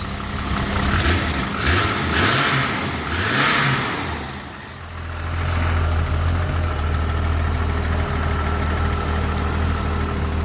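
Jeep Comanche with a full 2 1/4 inch exhaust and new high-flow cat, its engine blipped in several rising revs before settling into a steady, deep idle; loud and close, no talking.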